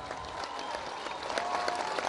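Steady, dense clapping from a big crowd at President Obama's speech in Kogelo, continuous and fairly loud with scattered sharper claps and a faint cheer or tone in the mix.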